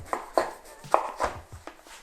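A soft bread roll of about 150 grams is sliced into pieces with a knife, giving a series of short, close cutting strokes at an irregular rhythm; no one speaks.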